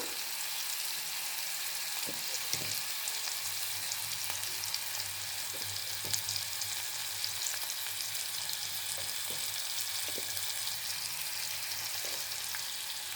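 Steady, close sizzling of a curry frying with dried red chili powder, a dish of broad beans, dried fish and tamarind leaf powder, with a few soft stirring knocks and no talking.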